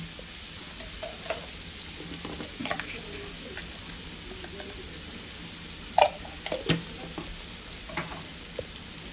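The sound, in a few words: stirring and sizzling frying in an iron pan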